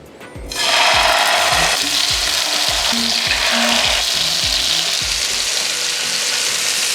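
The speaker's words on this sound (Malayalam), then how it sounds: "ഇനി നമ്മുടെ സാൽമൺ ഫിഷ് ഓരോന്നായി നമുക്ക് പാനിലോട്ട് വെച്ച് കൊടുക്കാം." Salmon fillets hit hot olive oil in a pan, and a loud sizzle bursts in after a quiet start, then crackles on steadily over a thumping music beat.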